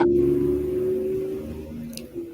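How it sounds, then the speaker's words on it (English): A vehicle rumbles past at a moderate distance, a low steady drone that slowly fades, with a brief faint clatter near the end. "A car just passed by."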